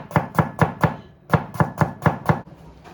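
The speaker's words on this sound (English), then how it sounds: "we're going to finely chop the ginger" A knife chops ginger finely on a board in two quick runs of four and five crisp, evenly spaced taps, close and clear with no talking.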